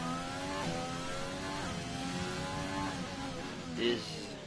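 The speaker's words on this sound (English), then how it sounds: "Well, there is a car going out of the pits." A race car pulls out of the pits at Baku, its engine whining steadily and climbing in stepped pitch sweeps through the gears, with a brief louder swell near the end.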